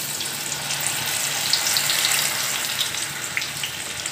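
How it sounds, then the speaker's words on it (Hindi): Masoor dal fries in hot oil for homemade crispy namkeen, giving a close, steady bubbling sizzle with a few brighter pops throughout. "अभी मैं आपको मसूर की दाल भी डाल के दिखाऊंगी"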